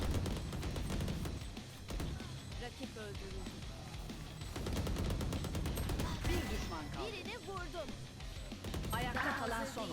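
Rapid gunfire in the Valorant video game, dense crackling shots running through the whole stretch beneath overlapping game sounds and people talking.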